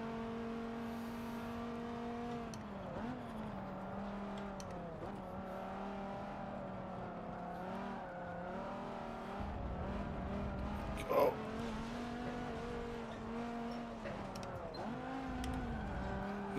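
Race cars in Forza Motorsport 7, Viper engines droning and shifting pitch steadily through gear changes with one brief tire or contact blip midway, continuous and fairly close throughout.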